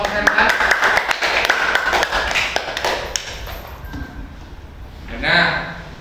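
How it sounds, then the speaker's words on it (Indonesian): Students in a classroom clap for a presenting group, a dense patter of hand claps mixed with background voices and chatter, fading out toward the end as a voice rises. "Tepuk tangan untuk kelompok verbal."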